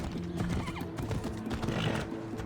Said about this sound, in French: Monte sur le cheval.